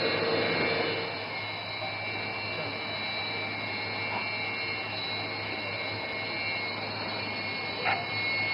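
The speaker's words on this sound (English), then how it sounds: "And notice the aircraft is now opening full power." A fighter jet engine roars at full power during an airshow at Moran, Dibrugarh in Assam, a loud, sustained broadband rush that stays steady throughout with no one speaking.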